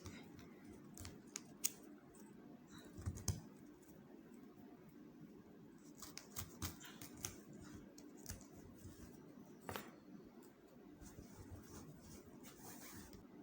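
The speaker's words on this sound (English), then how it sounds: "take your blade and cut the net inside" A blade slicing through net fabric while making an Ankara fascinator: soft, close scratchy cutting strokes with scattered sharp snips over a low steady room hum.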